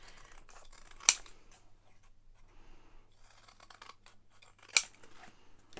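Scissors cutting around a shape in paper for a notebook cover, close quiet snipping and rustling with two sharp crisp snips standing out.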